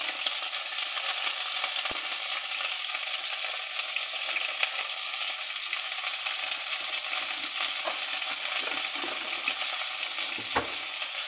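Onions frying in a pot with a pinch of salt and turmeric, a loud, steady sizzle filling the whole span, with a couple of brief clinks of a utensil.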